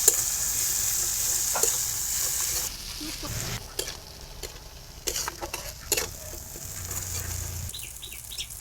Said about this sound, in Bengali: এবার আমি নেড়ে চেড়ে এগুলো লাল লাল করে কষায় নেবো